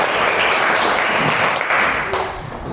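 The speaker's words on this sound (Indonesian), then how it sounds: "Tepuk tangan dulu buat Anissa." Classroom of students claps for a classmate named Anissa after her turn at the front, a loud, dense burst of applause that holds steady, then tapers slightly near the end.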